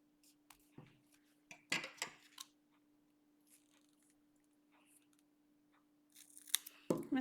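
Scissors snip through a piece for a Valentine's chocolate-themed manicure, a couple of quick close cuts standing out amid quiet pauses, followed by louder handling at the end.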